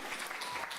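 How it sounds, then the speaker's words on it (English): Brief applause from an audience at an entrepreneurship competition final, a short burst of scattered clapping, fairly faint and distant. "So please give a round of applause for Mihnea."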